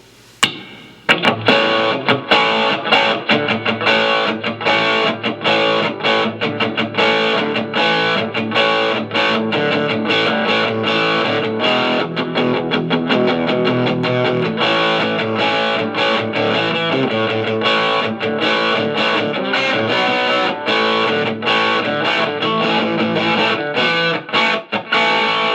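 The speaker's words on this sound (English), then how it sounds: "let's move over to the overdrive distortion section, and we're going to start on the overdrive" Overdriven electric guitar from a Boss ME-80 multi-effects unit played through a Marshall MG15HCFX amp, with sustained distorted chords and picked notes ringing continuously, loud and up close with no talking.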